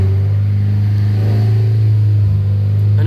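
A Subaru engine revs up to around 3000 rpm, a loud steady low drone close by that holds and swells slightly over a few seconds with no talking.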